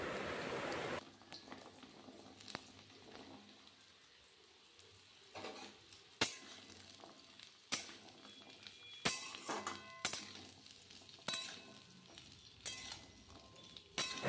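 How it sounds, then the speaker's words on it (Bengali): Potato and papaya pieces fry with cumin in hot oil, giving a soft, quiet sizzle. Sharp clatters and scrapes of stirring come every second or so. "তেল গরম হওয়ার পর জিরা ফোড়ন দিয়ে দিলাম আর পেঁপে আর আলু তেলে দিয়ে দিলাম"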